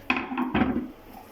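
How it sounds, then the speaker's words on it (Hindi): Chopped tomatoes and green chilies tipped into a pan with onions, giving a couple of quick close clattering drops and a short rattle against the metal, with no one talking. "इसमें हम डाल देते हैं टमाटर और हरी मिर्चें।"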